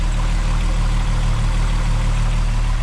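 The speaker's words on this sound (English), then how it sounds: "It's idling super smooth." A Volkswagen MK4 12-valve VR6 engine fitted with Techtonics Tuning 268 camshafts idles with a steady, even, close-up rumble that holds constant throughout, with no talking.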